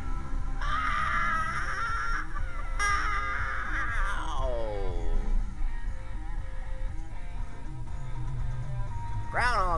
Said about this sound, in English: There's the birds. Or just one.